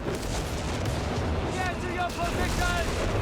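Nebelwerfer rocket artillery in Company of Heroes 3 fires in a dense, booming barrage of launches and impacts, with a voice talking over the rumble.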